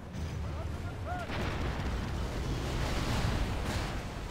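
A Langwenel siege engine fires during a citadel siege in a strategy game, a heavy dull boom rolling through dense battle din, with background talk.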